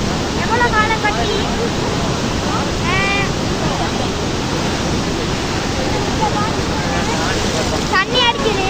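Water rushes loudly through the broken Kalawewa reservoir dam in Sri Lanka, a dense continuous roar filling the whole span, with faint birdlike chirps in the background.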